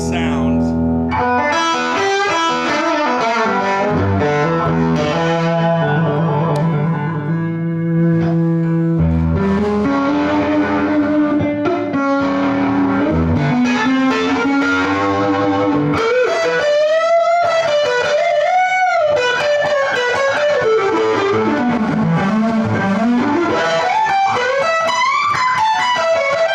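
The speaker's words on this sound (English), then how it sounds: "I like this echo in the background" Electric guitar notes ring out with an echo effect in the background, the sustained tones trailing and overlapping continuously, followed later by a wavering voice-like melodic line.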